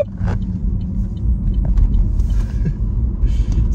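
Chevy Volt electric car taking a corner at pace, a steady low road rumble and tire noise from inside the cabin with a few faint creaks, no talking.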